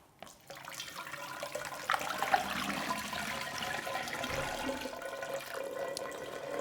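Water poured into a pair of cylinders for a demonstration, a steady, fairly loud gushing pour that runs continuously for several seconds with no talking.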